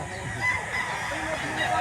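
Chickens and fowl cluck and call at a busy poultry market in Lipa, Batangas, with a steady crowd murmur behind them.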